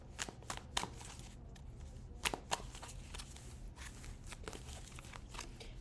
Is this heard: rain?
no